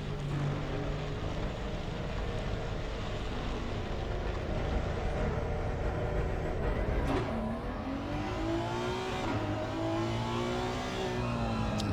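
A fast Honda race car in a live-streamed race pulls away with a loud, sustained engine drone and rising, shifting pitch sweeps, steady at a moderate distance.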